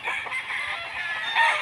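Roosters kept by Lola Tess's child crow continuously and close by, several voices overlapping into one steady, loud chorus with no talking.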